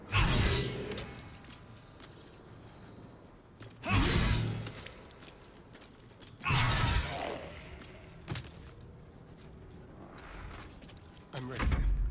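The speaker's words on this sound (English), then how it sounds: "And let's just start smashing." Objects being smashed in the fantasy role-playing game Baldur's Gate 3, with several loud crashes and shatters spaced a few seconds apart, each one a sharp burst of breaking debris, and quieter rattling and talk in between.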